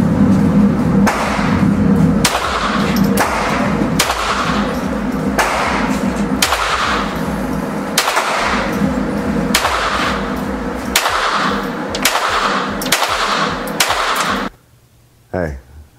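Gunshots at an indoor shooting range, a steady run of about a dozen sharp, loud cracks at roughly one-second intervals over a constant background, ending in near silence.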